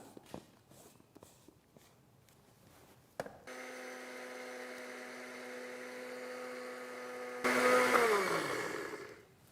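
A few light knocks and clicks, then a blender grinding dried herbs whirs loudly and steadily, its motor pitch rising in a harsher burst before winding down.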